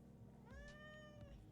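A cat gives one drawn-out meow that rises and then fades, faint and fairly close against a low background hum.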